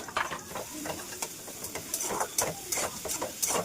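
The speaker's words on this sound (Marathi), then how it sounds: "याच्यात कांदा ॲड करत आहे कांदा चांगला भाजून घेता" Chopped onion frying in hot oil for momo filling, a steady close sizzle with scraping stirring strokes and small crackles repeating throughout, with no talk.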